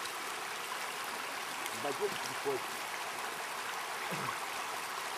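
A stream flows steadily as a broad, even rushing wash, with a few faint voices murmuring briefly under it while someone walks along the slippery water.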